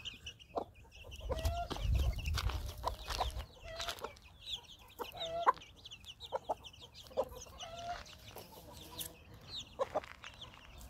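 Chickens clucking on a farm with larger young chicks and a hen, with repeated soft clucks and short calls at moderate distance, some overlapping.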